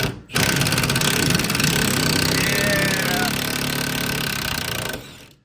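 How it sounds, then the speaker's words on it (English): An air hammer fitted with a strip socket drives out bump stops on a Nissan D21 Hardbody in a garage, giving a loud, continuous rapid hammering burst of about four and a half seconds that starts and stops abruptly. "after making your cut, you can just air hammer them out"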